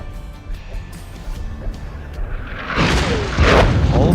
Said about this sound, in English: Just ahead, you'll see the bombs blowing up.